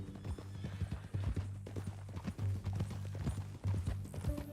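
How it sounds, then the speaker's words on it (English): Horse hooves clip-clop at a steady walking pace in the video game Red Dead Redemption 2, close and fairly quiet, with a low tonal hum beneath. "That a new horse?"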